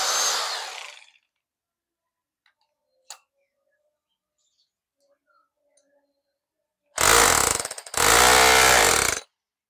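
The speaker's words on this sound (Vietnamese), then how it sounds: "chức năng cuối cùng là nó búa không mà nó không có xoay" Rotary hammer drill running in hammer-only chisel mode with no rotation, a loud rapid chattering hammer burst in two close runs after a long near-silent pause, preceded by someone talking.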